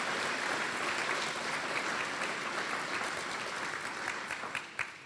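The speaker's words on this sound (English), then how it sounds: "So let's give the whole construction and design team a round of applause." At a college student union ribbon-cutting ceremony, an audience applauds the construction and design team with steady, dense clapping that holds throughout and tapers slightly at the end, with no speech over it.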